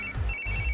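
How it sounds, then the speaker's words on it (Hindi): Phone ringtone announcing an incoming call, a repeating electronic melody heard alone, close and steady for under a second. "इस वक्त दीदी का फोन।"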